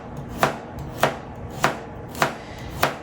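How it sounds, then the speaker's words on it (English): A knife cuts a carrot into thin diagonal slices on a cutting board. Five crisp, evenly spaced chops land about half a second apart, close and clear, with no talking. "So we're gonna do a little bit thinner slice."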